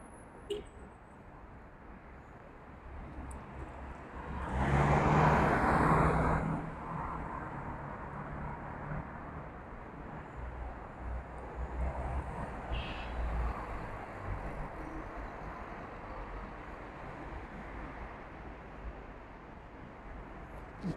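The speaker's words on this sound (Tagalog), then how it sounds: "Ang bibilis kasi ng mga sasakyan." Fast traffic roars past on a busy road during a street crossing. One vehicle swells loudly and fades early on, over a steady background rumble with wind.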